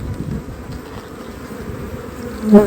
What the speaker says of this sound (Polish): Wszędzie pszczoły obsiadają wszystkie uliczki i noszą